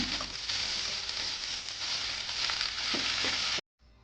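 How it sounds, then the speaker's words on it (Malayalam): Curry leaves and dried red chilies fry in hot oil for Kerala-style puli inji, giving a loud, close, steady sizzle with faint stirring that cuts off abruptly near the end. "ഇനി കറിവേപ്പില ചേർത്ത് കൊടുക്കാം കറിവേപ്പില നന്നായി ഒന്ന് മുരിഞ്ഞു വരണം"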